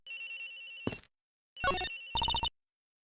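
Cell phone ringtone in the Ace Attorney Investigations video game, a bright electronic melody in short bursts separated by pauses, loud and alone with no voices.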